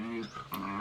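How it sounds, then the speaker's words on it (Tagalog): Dogs close by at a construction site, making short excited growling and panting sounds in one brief burst. "Natutuwa yung mga aso."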